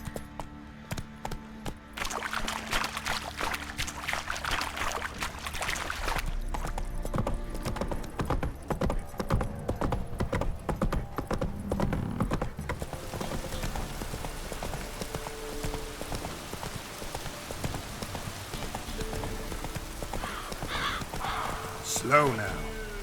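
Geralt's horse Roach galloping in The Witcher 3, a steady close clip-clop of hooves over ambient rain and game sound, with a voice speaking briefly before the hoofbeats fade and the scene quiets.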